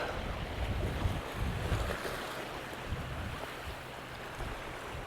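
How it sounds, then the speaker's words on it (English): Wind gusts on the Northumberland coast at Newbiggin, a steady low rumble buffeting the microphone with surf-like wash, no voices. "That wind has picked up."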